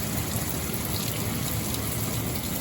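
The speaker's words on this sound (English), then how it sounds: "now it's pouring" Heavy rain pours down steadily outdoors at a barndominium building site, a dense and even loud hiss with no breaks and no talk.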